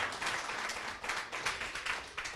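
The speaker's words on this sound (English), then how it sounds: "Yeah, give them a round of applause." Audience applause at an Aboriginal speaker series event, a steady wash of many hands clapping, moderately loud and continuous with no talk over it.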